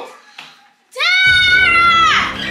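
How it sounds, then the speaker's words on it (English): A child lets out a long, loud, high-pitched scream at close range in a home during a sibling squabble, preceded by brief yelled fragments. "What's all this screaming and yelling?"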